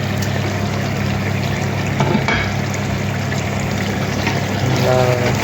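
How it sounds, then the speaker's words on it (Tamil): Strained water poured into a pot of chicken biryani, a steady watery rush and trickle over a constant cooking hiss, with a few faint clinks near the end. "தண்ணி தான் வந்து நம்ம பிரியாணிக்கு ஊற்றணும்."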